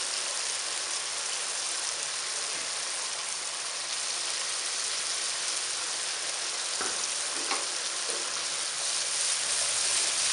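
Drumstick (sohanjna) sabzi masala with yogurt and tomatoes sizzles steadily in a pan, a continuous close frying hiss with a few faint stirring scrapes and no voices.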